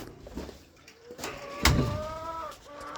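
Chicken in a backyard coop giving a few soft, near clucks and a brief squawk, mixed with a sharp knock and faint background noise.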